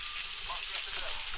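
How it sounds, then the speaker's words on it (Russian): Fish sizzles in a frying pan one morning at a hunter's cabin above the Volga, a steady close hiss of hot oil with no pauses. "с утра прям вот такая рыбка у нас жарится"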